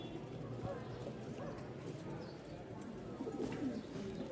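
At a pigeon market, birds coo and call under steady nearby talking and busy crowd noise, with shuffling and scattered clicks in the background.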